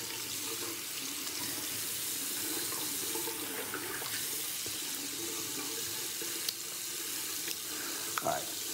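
A razor is rinsed under a running bathroom tap: a steady, close stream of water splashes continuously with small spikes of splashing, and no speech.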